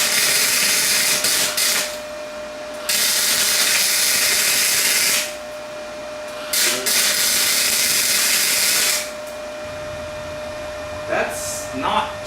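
Welding on an RX8 tow bar: steady harsh crackling hiss in long bursts of several seconds, separated by short pauses, loud and close.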